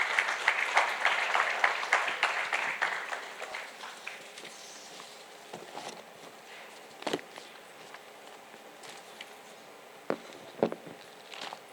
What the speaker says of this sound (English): Please give a big round of applause and welcome to Mr.